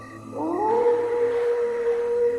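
A dog lets out a single sustained howl, rising quickly then holding a steady tone for about two seconds, close and clear with no talking.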